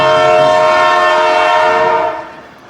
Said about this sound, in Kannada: ಇಲ್ಲ ನೋಡ್ಬೋದು ಟ್ರೈನ್ ಹೋಗ್ತಿದೆ.